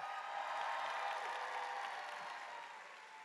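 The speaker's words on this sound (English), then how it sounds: "So give yourself a round of applause." Steady applause from a crowd at a drag show at PAX West 2024, broad and sustained throughout, tapering slightly toward the end.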